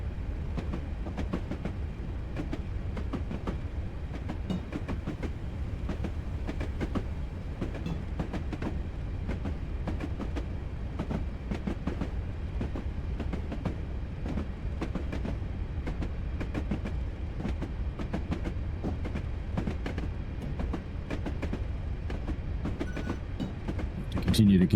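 A train in Train Simulator on the West Highland Line picks up speed, giving a steady rumbling roar with constant rhythmic clicks and rattles from the wheels and carriages throughout, close and continuous.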